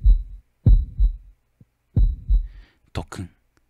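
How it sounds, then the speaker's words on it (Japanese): A heartbeat in the Japanese horror game Shin Hayarigami, played as a few heavy low thumps in slow pairs, close and loud, followed by a brief sharp noise at the end. "私の最後の心音が、一泊なり終える"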